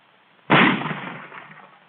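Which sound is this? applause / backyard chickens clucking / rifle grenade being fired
rifle grenade being fired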